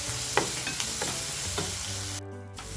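Chickpea kadlekalu gugri being stirred as it cooks, a spoon scraping the pan in a few soft strokes over a continuous low sizzle, ending in a brief pause.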